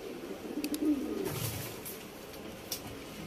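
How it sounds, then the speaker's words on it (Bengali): A male pigeon of a fancy breed coos softly and close by, a few low throaty murmurs in a quiet setting with no talk. "খুব সুন্দর পায়রা"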